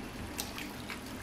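Sautéed tangra fish goes into a simmering curry with potatoes, a low wet bubbling and a few soft splashy drips, close but quiet.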